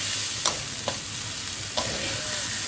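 Rice is dry-fried and stirred in a kadai for pulao, with a steady close sizzle and a few soft scrapes of the spoon against the pan.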